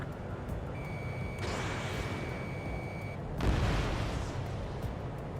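Anti-aircraft fire in the flight combat game Ace Combat 7 rumbles as dense, distant booming bursts under a steady engine-like roar, with a surge of heavier blasts midway and a sustained warning tone early on.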